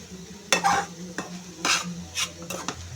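Water spinach (kalmi greens) sizzles in a hot pan while a utensil stirs it in a few quick scraping sweeps, close and fairly loud.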